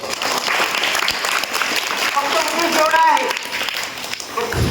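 A school audience at a primary school event applauds, a dense, sustained patter of many hands clapping close by and loudly for several seconds before it tapers off.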